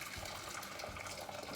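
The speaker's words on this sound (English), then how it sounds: "I'm going to pour it into this bigger orange dish here." Boiled water from a kettle poured into a larger orange dish, a steady broadband gush of liquid lasting under two seconds with no talk over it.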